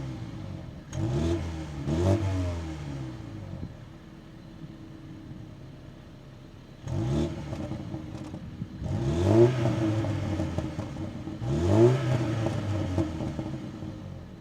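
A 2023 Mini Countryman Cooper S engine revs repeatedly in loud, rising bursts with rumbling exhaust, easing back to a steady idle between pulls, with pops among the revs.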